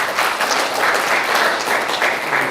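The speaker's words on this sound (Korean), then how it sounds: "예, 박수 한번 쳐주시기 바랍니다." Sustained crowd applause from an audience at an academic lecture held at a Confucian academy, a dense steady patter of many hands clapping for the full stretch with no talk over it.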